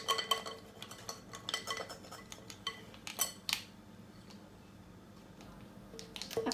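A spoon clinks and scrapes against a bowl while gathering crumbly scone mixture, giving scattered close taps and scratchy strokes at a quiet level.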